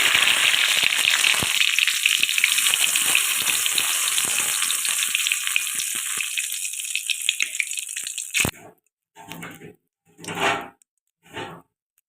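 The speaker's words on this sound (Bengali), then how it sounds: "দিয়ে দেবো তেজপাতা" Bay leaf dropped into hot mustard oil in a wok sets off a loud, continuous sizzle that fades gradually, then cuts to a few short separate bursts of frying.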